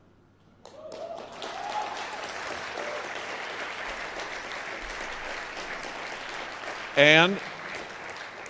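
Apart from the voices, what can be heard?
audience applause at a speech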